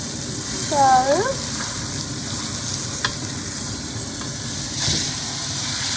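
Steak searing in a hot pan, a continuous hissing sizzle with a brief tonal squeak early on and a couple of soft knocks as it is flipped.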